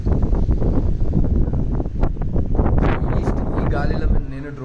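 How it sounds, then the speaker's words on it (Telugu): Strong wind blows outdoors in Ooty, buffeting the microphone with a steady, loud roar for the whole stretch, while a voice talks partly buried beneath it. "ఒక్కసారి బయట గాలి చూడండి,"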